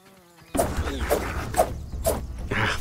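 Fly buzzing in the video game Grounded, a droning whine that starts abruptly and holds steady for over two seconds, near and fairly loud, with a pulsing wingbeat flutter and light game sounds underneath.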